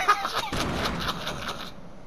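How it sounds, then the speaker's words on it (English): A grenade blast in the Fortnite video game: a short, loud burst that rolls on as a rumbling boom for about a second before cutting off, with no voices over it. "I'm going to throw this grenade, scare them."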